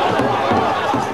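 Irritated football crowd in a stadium, a dense, steady roar of many voices murmuring and calling out together, with rising swells of grumbling and no single voice standing clear.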